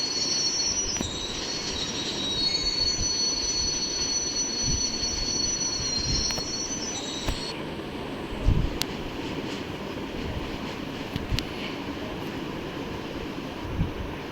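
An Indian Railways train's wheels squeal loudly against the rails as it brakes, high screeching tones over a heavy rumble and occasional clanks.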